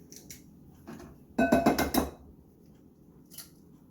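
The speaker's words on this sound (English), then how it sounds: "So I'm going to go ahead and move my eggs, organic eggs. So right here, and we crack them up real quick." Organic eggs cracked one after another into a bowl, a cluster of sharp clinking shell taps in a short close burst, with quieter clicks before and after.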